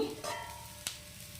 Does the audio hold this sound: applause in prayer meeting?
no